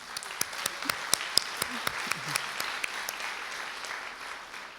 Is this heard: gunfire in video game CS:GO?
no